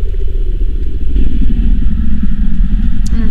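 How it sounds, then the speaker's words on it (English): A low, creepy growling rumble drones steadily in the background of the HetaOni horror video game, loud and continuous with faint clattering over it. "And then there's creepy growling going on in the background."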